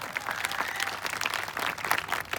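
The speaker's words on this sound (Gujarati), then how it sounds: "સમસ્ત ગામને એકદમ તાળીઓના ગડગડાટથી વધાર્યો" Continuous applause from a village gathering at a Koli Thakor community conference, a dense wash of many hands clapping with no clear pauses or gaps over the whole stretch.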